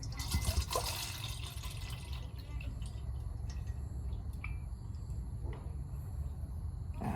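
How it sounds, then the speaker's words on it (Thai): Clean water poured into a dog's bowl, a steady liquid stream with light splashing that runs close and continuous for several seconds over a low background rumble. "น้ำสะอาดนะครับหมากินได้นะครับ เทไปเลยครับ"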